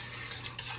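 Borax being stirred into warm water in a bowl, a soft continuous swishing and light scraping at close range, with no talk over it.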